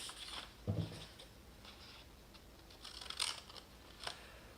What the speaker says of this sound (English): you are going to cut with a pair of scissors.